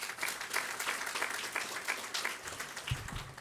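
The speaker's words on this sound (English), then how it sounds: "Give them a big round of applause." A crowd at a nursing and allied health center ribbon-cutting ceremony breaks into a round of applause, steady clapping that holds for several seconds with some low thumps near the end.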